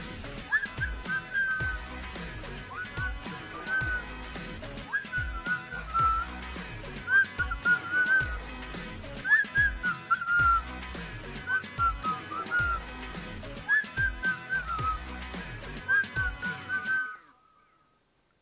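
Lips whistle a repeating pop melody, the bright tune carried over a steady backing beat with thumping bass, loud and continuous until it stops abruptly near the end.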